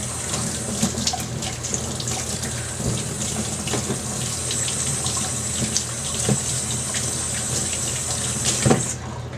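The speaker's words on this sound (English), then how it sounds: "rinse the top of the keg off" Running water rinses the top of a homebrew keg, a steady splashing tap flow with a few brief clinks over roughly ten seconds.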